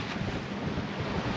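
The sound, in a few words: headwind on sailboat at sea near Cagliari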